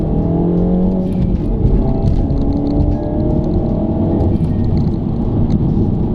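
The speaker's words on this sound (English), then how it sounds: "So I'm in 4th gear now, put your foot down and it really does give it a quick little pull." A Mini Cooper S fitted with a Powerizer accelerates hard in fourth gear, its engine a loud, steady, close drone with a gradually rising pitch and no speech.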